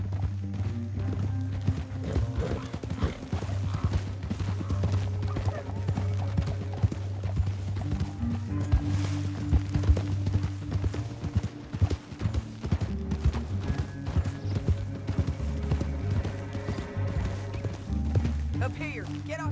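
Horse hooves clatter in a rapid, steady galloping rhythm in Red Dead Redemption 2, under a continuous musical backdrop, with a voice speaking over it.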